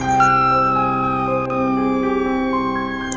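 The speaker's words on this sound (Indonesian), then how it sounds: "Sirine polisi! Kabur!" A police siren from the Sakura School Simulator video game wails steadily and loudly for about three seconds, a sustained tonal whine with a slight pitch change partway through and no talking.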